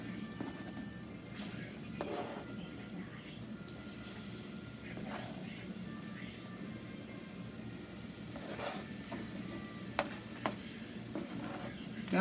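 Onions sizzle steadily in a hot pan, a constant crackling hiss with occasional stirring scrapes, no voices.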